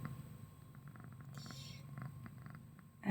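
A cat purrs softly and steadily up close in a quiet room, faint throughout, with a brief noise at the end.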